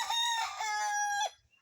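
Rhode Island chickens kept on a small farm, with a close, loud rooster-like crow running about a second, then fading out to quiet.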